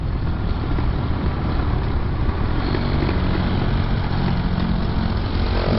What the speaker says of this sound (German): Ah, der Auspuff bollert so schön.